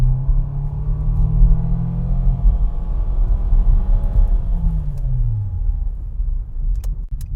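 A car engine with a CVT transmission runs at wide open throttle from a lower speed, a loud, close, sustained rumbling drone that rises and then eases off near the end, with no talk.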